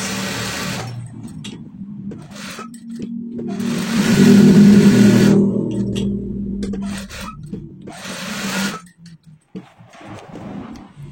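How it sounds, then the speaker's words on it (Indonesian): A sewing machine stitches the edge of stiff fabric for a school uniform sleeve cuff in several bursts of rapid mechanical stitching, speeding up in the middle, with short pauses between runs and a few soft clicks. "Jahit pada pinggiran kain keras."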